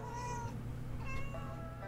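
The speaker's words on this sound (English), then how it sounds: "I wonder if you can hear her meowing away now." Misty, a pet cat, meows repeatedly for attention, two or three drawn-out calls fairly close but modest in volume over a steady low hum.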